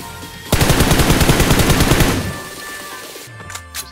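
Automatic gunfire in PUBG Mobile, a rapid loud burst of evenly spaced shots lasting about a second and a half, then fading into quieter game ambience with a few faint distant pops.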